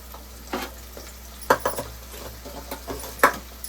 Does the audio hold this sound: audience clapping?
no